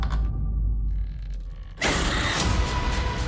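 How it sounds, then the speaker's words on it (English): A closet door in a house creaks shut with a drawn-out, close, mechanical groan, followed by a sudden louder burst of noise that fills the rest of the moment. "Can you close my closet door?"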